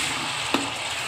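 Onion paste mixed with a spoon of ginger garlic paste frying in oil for a curry, a steady close sizzle with one brief stirring scrape partway through.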